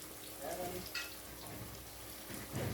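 Oil sizzles and crackles steadily as bananas fry in a pan, with a faint voice briefly in the background.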